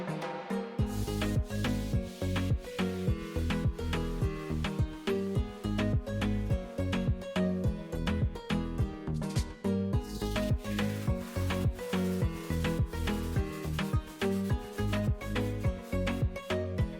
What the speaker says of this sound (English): I'm gonna sand it down all the way down and take all the scratches out